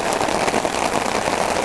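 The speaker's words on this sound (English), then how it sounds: "Okay, it's raining. Pretty loud." Heavy rain pours down steadily at a bushcraft campsite, a loud, dense hiss of drops drumming on surfaces close by, continuous and unbroken throughout.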